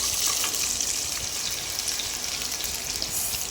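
Mustard seeds splutter and crackle in hot oil, tempering for a mango pickle, with a steady, loud, close sizzle and no talk.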